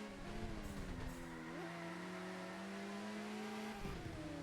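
Race car engine in a racing video game, holding steady revs with shifting pitch and a rising sweep as it climbs through a gear, continuous and close with no talk.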